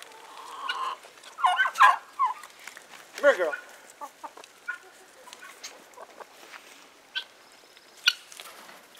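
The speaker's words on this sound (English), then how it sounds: "Crazy birds." Farm birds calling in bursts around a homestead ram-pump water setup, with loud close squawks and clucks early on and scattered fainter calls later, while a person talks to them over the birds.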